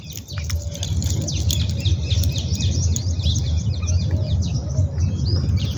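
Several birds chirp and tweet in quick, scattered bursts over a steady low rumble of outdoor background noise.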